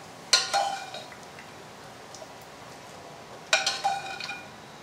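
About 12 ounces of fettuccine go into a pan, giving two clinking, scraping clatters a few seconds apart, close and moderately loud, with quiet background between them.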